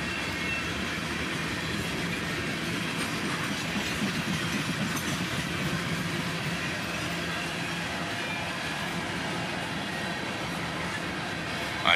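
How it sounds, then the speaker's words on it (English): A fully loaded CSX northbound tank train rolls past on the rails, its cars producing a loud, steady rumble with rhythmic wheel clatter that holds for the whole stretch. "I haven't caught a full tank train in quite some time."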